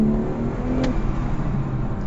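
Car engine heard from inside the cabin while driving normally, a steady loud hum and road rumble with a brief rise, no voices.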